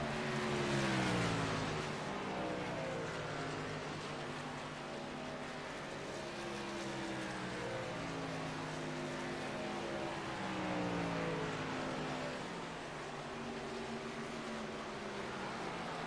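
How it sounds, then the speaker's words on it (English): Race trucks of a truck series roar through the corners at Homestead-Miami Speedway, engines droning loud and continuous with overlapping pitch sweeps as several trucks pass, swelling near the start and again later. "Great battling and great racing, of course, as they come back through the corners here"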